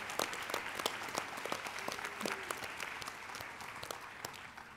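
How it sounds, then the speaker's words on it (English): A conference crowd at a general session applauds registry attorneys, a moderately quiet patter of scattered individual claps at a distance, uneven and thinning toward the end, with a faint voice murmuring beneath. "please give all of the registry attorneys another great big round of applause, please"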